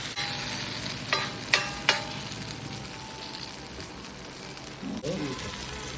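Ragi roti batter sizzling on a hot pan, a soft continuous frying hiss with a few sharp clinks of utensils early on and a brief scrape near the end.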